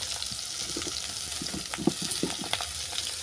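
Beetroot added to a pan sputters and sizzles in hot oil with eggplant, a steady close frying hiss broken by sharp crackles and stirring scrapes, with no voices.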